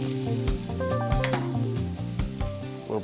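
Garlic, ginger and scallions sizzle loudly as they stir-fry in a hot pan, with a steady close-up crackle and scraping utensil clatter throughout, no talking.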